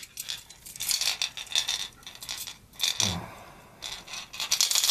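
Surface jerkbait fishing lure for pike, a pencil-style floating bait with an internal rattle, shaken in hand to give repeated bursts of small hard beads clattering and scraping, fairly close and steady over about five seconds with no talking.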